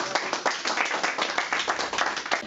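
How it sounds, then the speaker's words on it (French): Applause and clapping for performers at a humanitarian theatre show, a dense, even patter of many hands that holds steady throughout. "Bravo, on peut vous applaudir."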